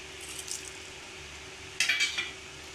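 Cumin, fenugreek, dried red chilli and mustard seeds hit hot oil for tempering, giving a faint steady sizzle with a brief burst of metallic clinks and crackle near the end, no voices.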